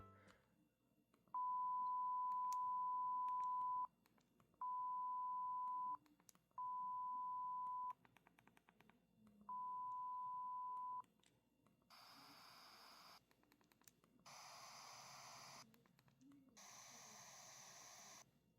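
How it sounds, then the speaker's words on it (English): A Nintendo Switch developer unit runs its sound test: four steady sine-wave tones of about a second or two each with short gaps, then three longer bursts of hissing pink noise, clean and fairly loud with no talking. "So that was the sound test between sine wave and pink noise"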